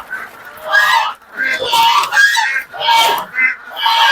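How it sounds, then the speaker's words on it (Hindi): A flock of ducks on a country poultry farm quacking loudly and continuously nearby, overlapping harsh calls in repeated bursts with no pauses. "इधर बत्तख है सामने,"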